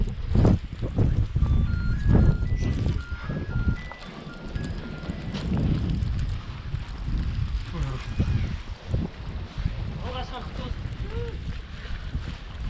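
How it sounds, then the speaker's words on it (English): Strong wind of a spring blizzard in Astana, Kazakhstan, buffets the microphone in heavy gusty rumbles, with people talking over it and faint beeping in the background. "It's windy."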